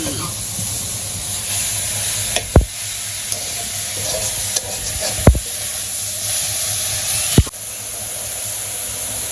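Greens stir-fry in a pan with a steady sizzling hiss, punctuated by three or four sharp clacks of a utensil against the pan, close and fairly loud.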